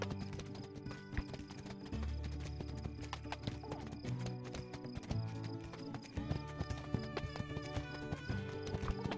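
Rhythmic clip-clop of horse hooves from Spirit, a horse in a DreamWorks horse video game, trotting steadily under game music, with an occasional whinny.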